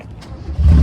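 A BMW E30 engine starts: a short quiet stretch, then the motor catches with a sudden loud, low rumble that keeps running to the end.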